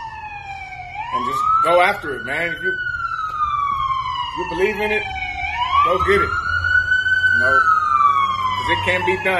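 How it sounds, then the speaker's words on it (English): An ambulance siren wails in rising and falling sweeps, fairly close and prominent, while someone talks over it. "That's the ambulance. You know they're going right back there"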